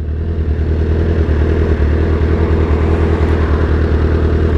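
2008 Suzuki GSX-R 1000 motorcycle with velocity stacks and a new fuel pressure regulator, being ridden, a loud, steady engine drone with a rough rumbling texture, heard close and continuously.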